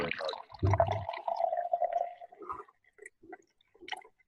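Guinness stout poured into a glass: a short glugging splash of liquid, then a steadier pour lasting about two seconds, close and moderately loud, followed by a few faint clinks and handling noises.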